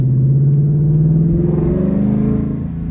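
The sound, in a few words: 2024 Mustang GT exhaust with Roush X pipe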